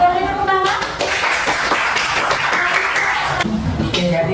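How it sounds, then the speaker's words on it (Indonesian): Classroom audience clapping for a group presentation, individual claps distinct and rhythmic at first, building into a fuller round before tapering off, with faint voices around it. "kita beri tepuk tangan"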